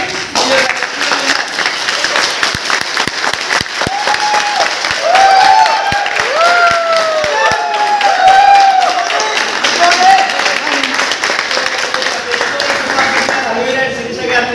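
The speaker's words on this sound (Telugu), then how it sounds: "అందరం కూడా గట్టిగా చప్పట్లు కొట్టి" An audience at a car inauguration event breaks into loud, sustained applause, dense clapping from many hands with some cheering and voices mixed in throughout.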